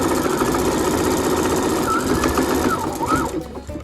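A sewing machine stitches a single seam down the side of a fabric mask with batting inside, a loud close rapid mechanical whir that runs steadily before slowing and stopping at the end.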